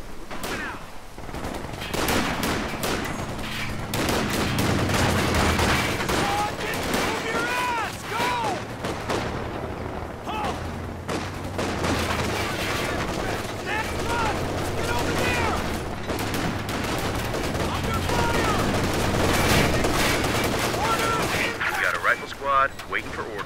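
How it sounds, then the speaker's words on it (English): Dense gunfire from the Company of Heroes 2 war game in a 4v4 match, with rattling machine guns, rifle shots and booming artillery blasts, loud and continuous under shouted soldier voice lines. "We're taking effective fire!"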